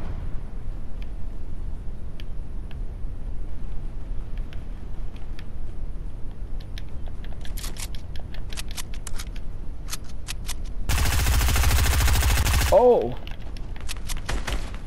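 Gunfire in the video game Fortnite: scattered sharp shots crack through a quiet stretch, then a dense burst of rapid fire lasts about two seconds before cutting off, with a player talking faintly.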